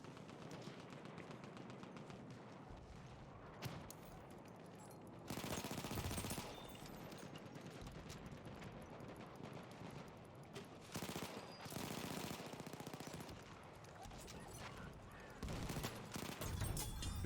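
Rapid video-game gunfire from a bomber's fortress gun rattles in dense, continuous bursts, loud and close, with brief surges and dips in intensity and no speech over it.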